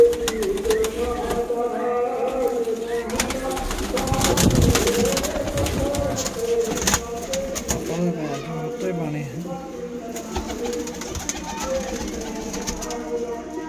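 Malwai pigeons cooing close by, repeated throaty coos over several seconds while someone talks intermittently.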